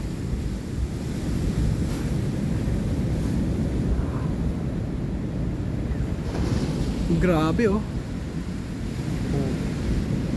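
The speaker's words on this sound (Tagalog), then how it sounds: "Kumahampas po yung alon dito guys." Heavy surf roars steadily close by, waves crashing continuously against the rocks at Kapurpurawan rock formation in Burgos, Ilocos Norte, with wind buffeting the microphone; a voice exclaims briefly partway through.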